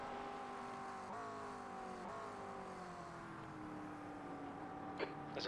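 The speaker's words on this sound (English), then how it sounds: "There's a faster car bearing down on you." A faster race car in an endurance racing video game approaches and passes during the Le Mans 24-hour event, its engine a steady high drone with shifting pitch throughout.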